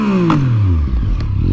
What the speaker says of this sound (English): Oh, I love that triple cylinder engine,